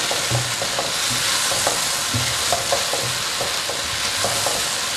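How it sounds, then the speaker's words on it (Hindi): Whole garam masala spices fry in hot oil for a restaurant-style chicken korma while being stirred, giving a steady close sizzle broken by rhythmic scraping strokes of the spoon, with no talking. "अच्छे से हम मसाले को भूनेंगे"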